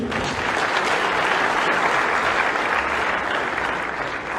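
Sustained crowd applause fills a lecture hall after Professor PLO Lumumba's talk on Zambian democracy, many hands clapping in a thick, even roar that holds at a steady loudness for several seconds without any voice on top.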